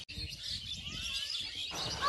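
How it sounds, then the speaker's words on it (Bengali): Birds chirp and tweet in short repeated calls in a village outdoors, with a faint hiss of falling rain throughout. "দেখেন কত পাখি"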